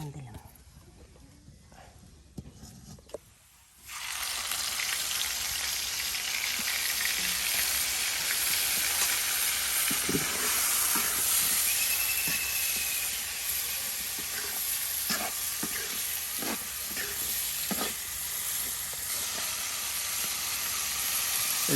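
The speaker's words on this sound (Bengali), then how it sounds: "এই যে আপনার তেলের সাথে মাংসটা কষানো হচ্ছে" Desi chicken frying in oil with turmeric, chili powder and salt, a steady broad sizzle that starts abruptly and stays loud and close, with occasional stirring clinks and scrapes beneath.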